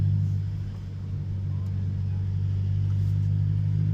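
A Mercedes C300 W205 with its muffler removed cruises through a neighborhood at low revs, giving a steady, droning exhaust hum that stays even throughout.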